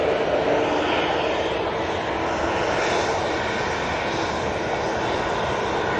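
An EasyJet airliner departing Manchester Airport for Basel gives a steady, broad engine roar, moderately distant and constant, with no talking over it.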